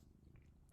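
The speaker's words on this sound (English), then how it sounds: "Anyway, so that's my cat," A female house cat purring close by, a soft low rumble that pulses steadily for under a second, ending in a brief sharp click.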